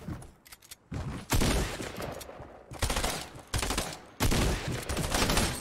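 Bursts of rapid gunfire from a game, several loud volleys separated by brief pauses, with no talking.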